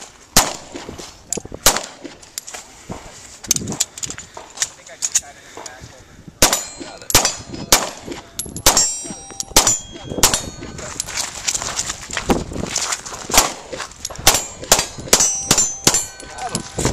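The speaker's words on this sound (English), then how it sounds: "Press that trigger nice and smooth, Clem." Gunshots ring off steel targets during a pistol shooting lesson: a long series of sharp, loud cracks, each with a metallic clang, spaced irregularly and sometimes in quick pairs. A voice talks between the shots.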